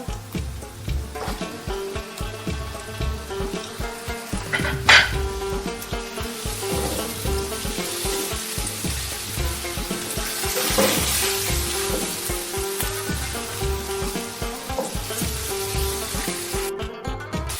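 Whole spices and tomatoes fry in a pot for beef biryani, giving a continuous close crackling sizzle with occasional stirring knocks, and a gentle musical bed underneath.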